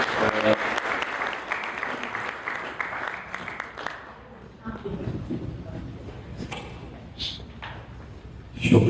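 Audience at a book launch and poetry gathering applauds to welcome the evening's chair, clapping strongest at first then thinning into scattered claps and murmurs, with a voice speaking partway through.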